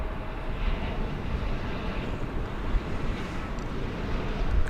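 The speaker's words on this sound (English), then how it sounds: "here comes the flight from Madison" An airliner arriving at Dallas Fort Worth airport, its deep engine rumble loud and sustained over a few seconds with some wind buffeting and no voices.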